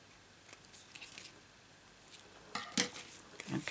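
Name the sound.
scissors cutting card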